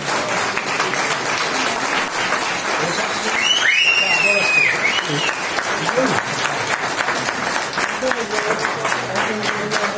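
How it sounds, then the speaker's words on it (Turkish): Sustained audience applause at a poultry show award ceremony in Turkey, a steady wash of many hands clapping throughout, with a brief high whistle or tone rising partway through and faint voices underneath. "Büyük bir alkış Yavuz abi."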